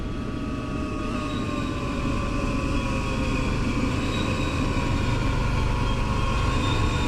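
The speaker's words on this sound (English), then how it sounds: "we have an M9 pulling in the other direction." An M9 electric train in Train Sim World 5 pulls into a station on the Long Island Rail Road Patchogue to Jamaica route with a steady rumble and a gliding motor whine that slowly drops in pitch, with no talking.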